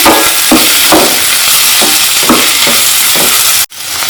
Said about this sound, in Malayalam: അതും കൂടെ ചേർത്തിട്ട് ഒന്നൊന്ന് മിക്സ് ചെയ്ത് കൊടുക്കാം